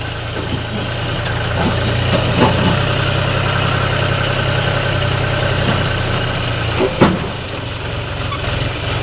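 A tractor engine runs at a steady idle on a farm. Its low, even rumble holds throughout, with a few faint clanks and knocks standing out near the middle and end.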